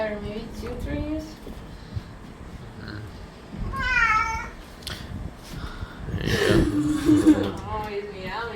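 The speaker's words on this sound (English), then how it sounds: "he's meowing" A Persian cat at bath time gives several short meows, some whiny and rising, scattered among throat-like grunts and splashy household noise, close and fairly loud.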